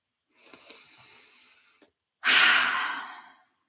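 Deep breathing during a guided breath practice: a soft, airy inhale near the microphone, a short pause, then a louder, fuller exhale that fades away, with no talking.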